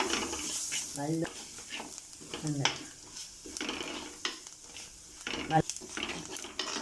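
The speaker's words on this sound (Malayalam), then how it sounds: "ഇതെല്ലാം കൂടി മൊരിയിക്കണം." Turmeric and spices sizzle in a pan for a fish curry while a utensil stirs and scrapes against the metal, a few louder clinks standing out, with faint talk in the background.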